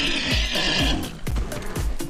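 A horse in the video game Far Cry 6 gives a loud, close neigh and whinny over steady galloping hoof thuds, with a repeating rhythm of hoofbeats under a sustained tonal game background.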